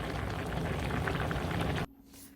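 Sundubu dumpling ramen made with Shin Ramyun, Gohyang Mandu dumplings, soft tofu and egg boils in a pot, a dense close bubbling that rolls steadily for almost two seconds and then abruptly cuts off.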